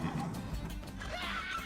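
A horse neighs and whinnies loudly and close in the Attack on Titan anime, season 4 episode 11, with a faint clip-clop of hooves and soft background score.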